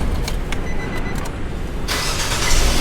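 A car engine starts in a parking area, with a broadband rumble and a brighter surge near the end as it catches, heard close and loud.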